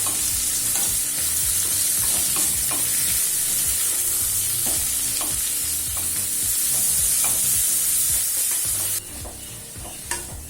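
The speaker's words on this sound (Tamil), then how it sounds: "அடுத்து பீர்க்கங்காய் தோலை சேர்த்துக்கலாம்" Ridge gourd skin sautéing in a pan for chutney, a steady close sizzle with regular scrapes and knocks of a spoon stirring, continuous and fairly loud throughout with no voices.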